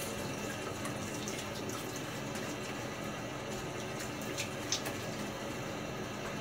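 Water from a tap runs steadily into a sink as a face is wetted before a shave, a continuous close, even rush of splashing, a few faint drip and splash accents, with no talk.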